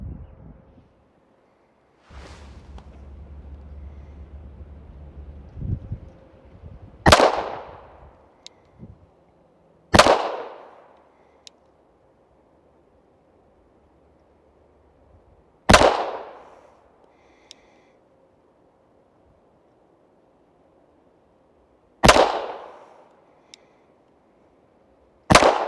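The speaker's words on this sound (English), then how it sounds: "from that distance I'll be firing 5 rounds into the target at a medium shot tempo" Tisas Raider pistol fired at a target from 15 yards: five sharp, loud reports spaced a few seconds apart at a steady medium cadence, each with a short decaying tail, following a faint hum at the start.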